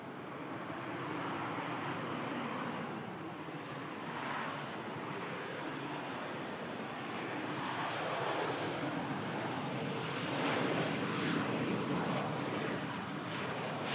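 A Jet2 Boeing 757 on lease touches down on runway 23L at Manchester Airport during a hydraulic emergency, a steady broad jet rumble with wind over the microphone, swelling slightly toward the end with no talk.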